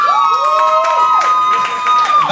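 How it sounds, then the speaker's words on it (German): Audience at a live rock band concert cheering for a band member, crowd noise with long sweeping whistles and shouts filling a short burst at high volume. "Applaus für den Hofi."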